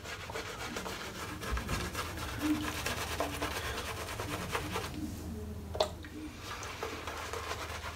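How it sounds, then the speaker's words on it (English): Boar bristle shaving brush, 27mm, swirling over cocoa butter shave soap to build a lather, a quiet, close, continuous wet rubbing and scrubbing with one brief sharper scrape near the end. "As you can see, it's building up a lovely lather."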